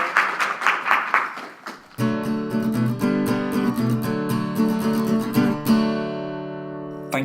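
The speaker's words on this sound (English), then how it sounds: "Let's have a round of applause for Reiko Yoshihara" An audience claps for about two seconds after an English-teaching interview at JALT 2017, and then a bright, tonal musical jingle takes over and rings out to the end.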